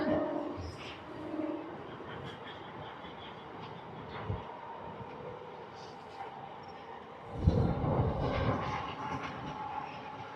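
A MEMU suburban train runs along the track between Tiruchanur and Chennai, a steady rumbling roll with a heavier surge near the end, while a voice speaks intermittently over it.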